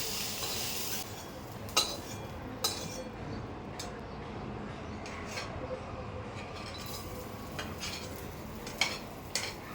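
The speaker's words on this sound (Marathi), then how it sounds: "आता आपण बाकीच्या भाज्या फ्राय करून घेऊया." Vegetables frying in a pan for a paneer salad, with a steady sizzle under occasional stirring clinks and utensil taps, close and moderately quiet, no talking.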